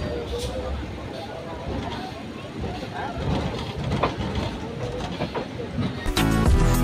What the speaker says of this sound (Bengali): আমাদের ট্রেন হাওড়া জংশনে ঢুকে পড়েছে